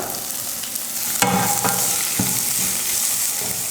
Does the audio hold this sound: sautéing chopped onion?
yes